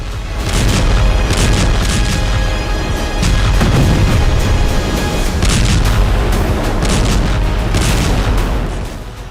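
Explosions from attack strikes on Hezbollah positions roll together into loud, continuous, heavy booming and rumbling that rises in several surges.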